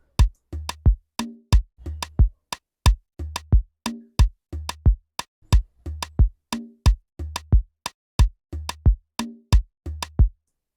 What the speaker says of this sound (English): let hear my drums first.